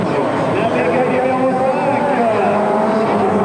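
A rally car ice racing at the 1994 Chamonix 24-hour event roars close and loud, its engine note rising and falling continuously beneath a commentator's voice.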